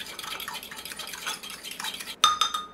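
Yeast being stirred into milk and sugar in a bowl for dinner rolls, with soft swishing and light clinks of a utensil against the dish, ending in a few brighter metallic taps.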